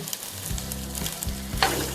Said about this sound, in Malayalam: ഉള്ളിയും വേപ്പിലയും അതോടൊപ്പം തന്നെ പച്ചമുളകും ഇഞ്ചി ഇതൊന്ന് വഴറ്റാം.